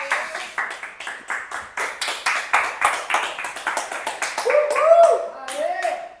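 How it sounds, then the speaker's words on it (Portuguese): Audience at a motivational talk applauds steadily, a dense stretch of clapping that swells toward the end, with voices cheering and talking over it. "Vamos dar uma salva de palmas para esse movimento que a gente fez acontecer"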